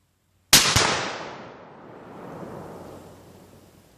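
A homemade Tannerite target detonates when hit by a rifle shot: one sudden, loud, close blast with a sharp crack that rolls into a long decaying rumble and echo, no talk over it.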